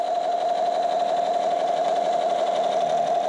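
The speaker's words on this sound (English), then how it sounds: "Lights and sound, toy gun." A space-themed kids' toy gun with lights and sound gives off a continuous electronic buzzing tone, steady and fairly loud, close by, with no pauses and no voices.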